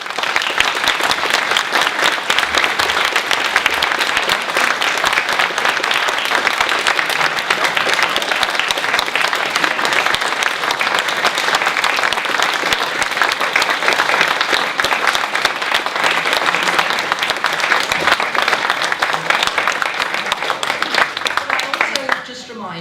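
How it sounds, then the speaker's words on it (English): A book festival audience gives the two speakers a long, loud round of applause, dense continuous clapping that holds steady for over twenty seconds before starting to taper at the very end. "give a huge round of applause for our two wonderful speakers"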